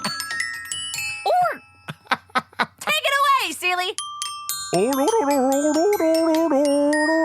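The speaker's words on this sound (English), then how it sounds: "That was also supported by my childhood Glockenspiel, which you'll hear throughout the rest of this broadcast." A childhood glockenspiel is struck in bright, ringing metallic notes, some single and some in short runs, mixed with people talking and singing.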